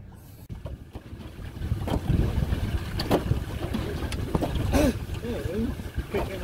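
Gusty wind buffets the microphone aboard a fishing boat at Oyster Point on San Francisco Bay in rough conditions, a rushing roar that builds as voices chatter briefly over it.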